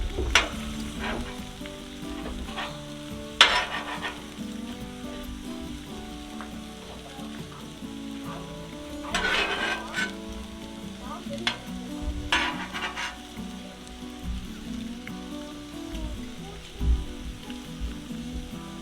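Philly cheesesteak meat fries on a Blackstone griddle with a constant close sizzle. Spatulas scrape and clank against the flat top now and then, a few of the hits louder than the rest.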